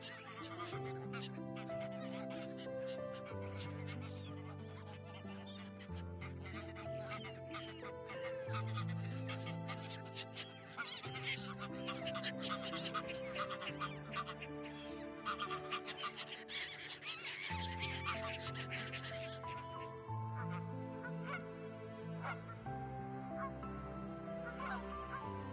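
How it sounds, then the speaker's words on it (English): A large flock of geese at a lakeside stopover at Steigerwald Lake honks continuously, many overlapping calls layered at a distance with denser bursts of honking in the middle stretch; no speech heard. "There are many geese here. This is a goose stopover."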